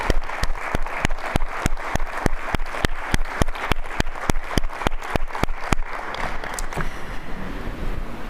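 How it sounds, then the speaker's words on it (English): Loud audience applause fills a district event hall, a dense wash of clapping with sharp individual claps standing out, fading slightly toward the end. "Let's give a round of applause"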